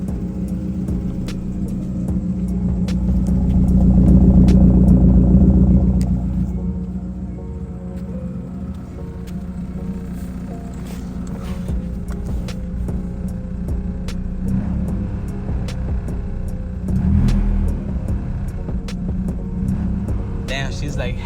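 A Toyota Celica engine runs steadily with a low rumble, freshly fitted with a new accelerator cable, swelling in a revving surge near the start and giving a brief blip later; people talk over it at moments.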